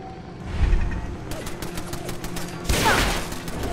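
A heavy turret firing in the video game Fallout 4: a steady stream of rapid automatic shots under a continuous low rumble, with a louder burst near the end.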